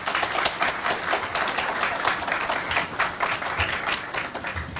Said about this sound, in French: Un gros applaudissement pour lui.